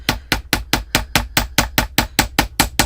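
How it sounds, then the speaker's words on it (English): Crisp metal hammer strikes on wire earrings, worked over a scratched metal block covered with a small piece of paper to harden the metal. About thirteen evenly spaced, ringing blows land in a steady rhythm, close and loud, with no talking. "I'm going to evenly hammer all the way around"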